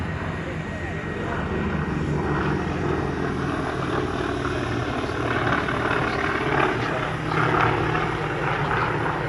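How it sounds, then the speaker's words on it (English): A Grumman S2G Tracker, a twin-propeller carrier-based anti-submarine aircraft, flies past at the Wings Over Illawarra 2022 airshow, its steady engine and propeller drone loud and continuous, with a voice talking over it. "This is the S2G Tracker, a carrier-based anti-submarine warfare aircraft developed for the US Navy"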